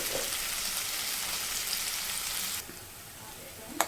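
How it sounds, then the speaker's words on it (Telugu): Tomato and ginger-garlic paste fry with a loud, even sizzle in a pan, which drops suddenly to a softer hiss before a sharp utensil knock at the end; no speech. "అల్లవెల్లి పేస్ట్ స్మెల్ పోయే వరకు వేయించుకోవాలి"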